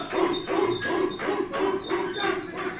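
A wrestling crowd in an arena barks in unison, a loud, rhythmic chant of about eight evenly spaced woofs, each human voice imitating a dog.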